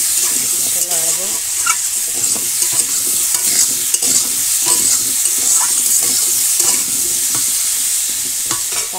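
Potato pieces with salt and turmeric frying in oil in a village kitchen, stirred repeatedly, producing a loud, close, steady sizzle layered with scraping and clattering strokes of a spatula against the pan.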